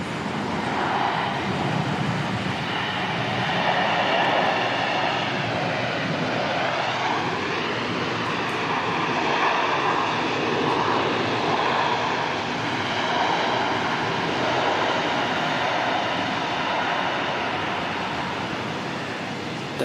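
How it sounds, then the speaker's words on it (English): Delta Airbus A350 jet landing at Auckland Airport, arriving from Los Angeles: a steady, broad engine roar and rush that holds at even loudness for about twenty seconds, with a slight pitch sweep in the middle and no talk. "Delta 65, bringing the beautiful A350 to Auckland from Los Angeles this morning"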